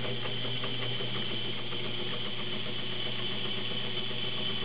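A serviced vintage Kenmore model 35 sewing machine runs steadily, giving a smooth, continuous mechanical whir with a fast, even stitching rhythm, close and fairly loud, with no speech.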